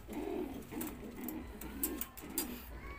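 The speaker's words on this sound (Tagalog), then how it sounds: "Mga kalapatids ito." Pigeons cooing close by, a few soft, low, throaty rolling coos repeating at a relaxed rhythm against faint background noise.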